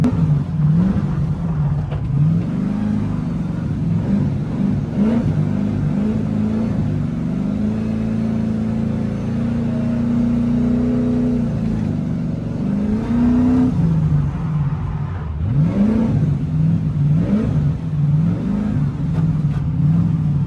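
An LS V8-swapped BMW is driven on ice, and its engine drones loudly and steadily throughout, rising and falling in pitch as the throttle is worked, with repeated quick revs and sustained pulls.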